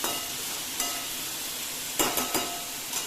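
Chopped vegetables are turned in a hot pan, a steady close sizzle broken by a few quick scraping stir strokes, with no voices.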